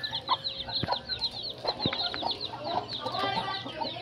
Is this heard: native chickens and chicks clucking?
yes